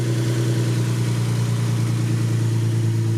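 Nissan 370Z with a Z1 cold air intake idling steadily, a smooth low hum with a constant tone, close and unbroken with no talk.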